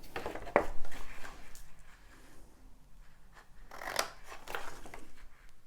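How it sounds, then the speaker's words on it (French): Scissors snipping along a marked line in cardboard for a homemade chocolate box, a few close, soft rasping cuts with pauses between them. "Ensuite, on va découper ce trait-là"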